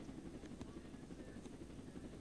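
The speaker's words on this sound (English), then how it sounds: "Okay, I have a helicopter." Helicopter in a video game, a steady low rotor drone that holds evenly throughout at a quiet, distant level without clear changes.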